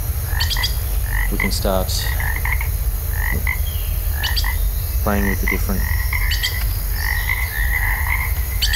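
Frog croaks from a recording played back in Unity with reverb added, repeated rattling calls over a steady low rumble and chirpy background, with someone speaking briefly over them.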